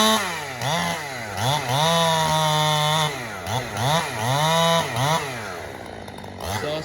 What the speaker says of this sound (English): Saw sounds weird without the pipe on it.